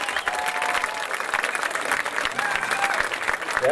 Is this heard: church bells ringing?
no